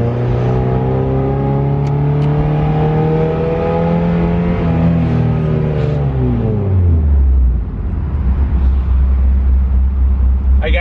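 A fully built 1997 Mazda Miata MX-5 with individual throttle bodies drives on the road, its engine loud and close, pulling up through the revs for several seconds and then dropping back to a low, steady drone.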